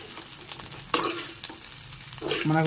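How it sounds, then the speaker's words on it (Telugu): Fish roe frying in a pan, village style, sizzling steadily with spatula scrapes and knocks against the pan, close and fairly loud. "మనకైతే జన మొత్తం ఫ్రై అయిందండి."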